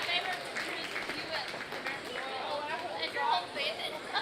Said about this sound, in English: Let's give those exhibitors a nice round of applause